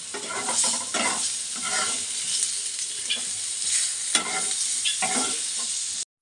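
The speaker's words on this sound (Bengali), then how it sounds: "আর এখানে এখন বেগুন ভাজা চলছে" Eggplant fries in hot oil for a Bengali hilsa fish curry, giving a steady bright sizzle with repeated scraping stirs of a spatula in the pan.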